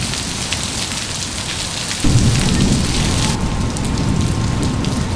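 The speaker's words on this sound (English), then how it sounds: "Well, if it keeps raining like this," Heavy rain pours down in a dense, continuous hiss, swelling louder partway through with a low rumbling undertone.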